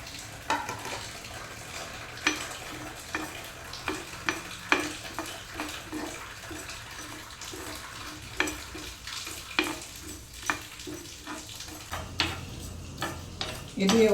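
Spice ingredients fry in a pan while a spoon stirs and scrapes in a steady rhythm of light clinks and knocks over a soft sizzle, recorded close with no talking.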